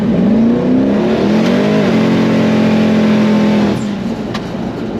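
A car engine revs hard under acceleration, its pitch climbing then holding steady before easing off near the end. Loud and close, no talking.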